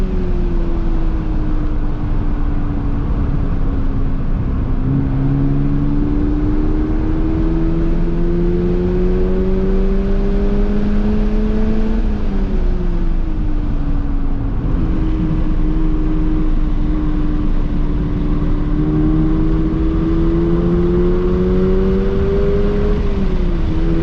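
A 2022 Toyota GR86 base-model sports car being driven hard on a track, its engine droning loudly and continuously as the pitch climbs through gears, drops at shifts and rises again.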